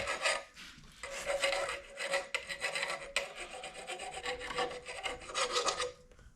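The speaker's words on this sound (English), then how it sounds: "a file is an important tool to have in a toolbox" A metal hand file rasps across a small burr on a Caterpillar 303 excavator part, a close, steady series of scraping strokes in rhythmic bursts with brief pauses between them.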